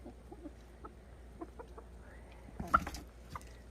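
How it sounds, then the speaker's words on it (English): Soft, scattered clucks from roosters against a faint outdoor hum, with a brief louder burst of squawking near the end. "I got 5 roosters."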